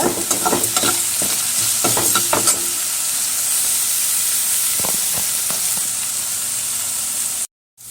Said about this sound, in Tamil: கொஞ்சோண்டு உப்பு போட்டுருவோம் தக்காளி வதங்க.